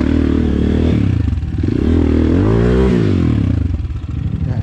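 A motorcycle engine on the way up Mt. Tapulao in Palauig, Zambales runs close by, its pitch rising and falling as it revs, with some clattering mixed in.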